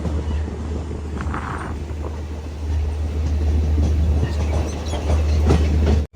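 A train runs on the Srinagar to Baramulla line in Kashmir, a continuous loud rumble with a deep low drone, rail clatter and wind buffeting, growing slightly louder before cutting off abruptly.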